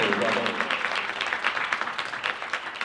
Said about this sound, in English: Donc on peut les applaudir, s'il vous plaît, pour leur travail.